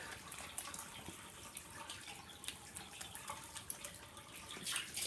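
Hot water runs from a tap into a sink, a soft, continuous splashing stream with small irregular spatters, heard alone and fairly quiet.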